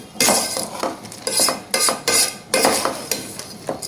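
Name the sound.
mixing salt and masala into vegetable pulav in a pot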